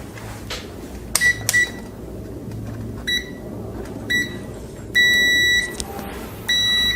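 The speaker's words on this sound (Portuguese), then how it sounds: "Esse multímetro ele tem o BIP e a indicação visual." A multimeter set to continuity gives short electronic beeps while a notebook motherboard is tested. The beeps come in several separate bursts, some brief and some held for about a second, over a quiet background hiss.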